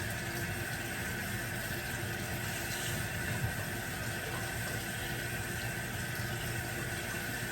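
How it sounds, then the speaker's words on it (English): Running water from a tap flows steadily over food in a strainer during kitchen food prep, making a quiet, even hiss that continues throughout with no talking. "And then I just put them into a strainer and rinse."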